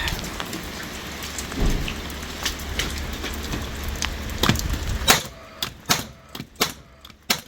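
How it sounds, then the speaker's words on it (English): Storm rain falling outside, a dense steady patter with scattered sharper drops, then more distinct heavy drips and taps toward the end. "It's wet out there because there's a wee storm coming on, the first storm of the year"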